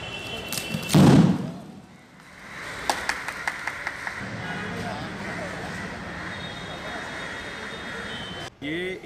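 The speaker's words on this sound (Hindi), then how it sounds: "फिर पलक झपकते ही इसमें धमाका हो जाता है और फिर ये धमाका आग पर काबू पा लेता है।" A fire-extinguishing ball bursts on a fire with a loud, sudden thudding blast near the start, followed by a series of sharp knocks and lingering crackling noise.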